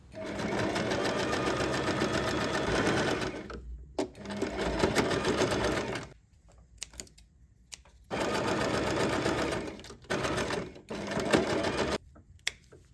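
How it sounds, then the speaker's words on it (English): Sewing machine stitching cord casings onto a tote bag, loud close rapid mechanical whirring in long bursts separated by brief pauses and small clicks. "You should sew the pinned area and repeat the same for other cords as well."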